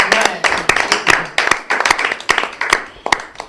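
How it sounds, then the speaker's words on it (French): A small audience claps unevenly during a Valentine's Day special broadcast, with sharp scattered individual claps rather than a full ovation, sounding fairly close and carrying on for a few seconds with no talk. "ça doit s'applaudir"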